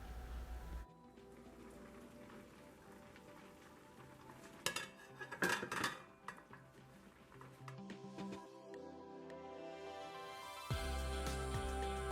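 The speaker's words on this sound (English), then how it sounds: "So now I'm going to cover this and allow it to cook over medium heat for about 15 minutes" A cooking pot of curry with vegetable chunks gets its lid set on, giving a few close metallic clinks and rattles in the middle over a steady low kitchen background.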